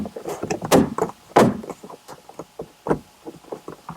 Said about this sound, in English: Just line up with the 2 buttons and push it back on.